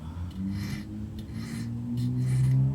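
A metal file rasps across the bevel edge of a woodcarving tool in steady repeated strokes, close and fairly loud, with a low background hum and no talk.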